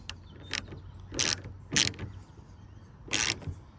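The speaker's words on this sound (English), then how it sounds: "I can just sort of use the socket wrench to tighten it up the rest of the way" A socket wrench tightens a Yakima rack onto the bed of a Hyundai Santa Cruz truck, giving four or five short bursts of clicking ratchet strokes separated by brief pauses, close up and without speech.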